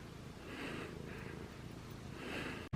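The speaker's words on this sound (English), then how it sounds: "I don't know if anyone can hear how loud she's purring right now." A female pet cat purring loudly and close by, a steady low rumbling throb that continues through the moment with no talking.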